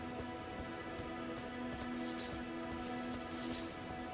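Steady rain falling in the video game Elden Ring, a constant dense hiss with two brief louder gusts and a faint sustained hum underneath.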